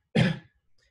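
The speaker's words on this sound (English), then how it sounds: "causing a person to cough." A single short, forceful human cough bursts out close by, followed by silence and a faint breath.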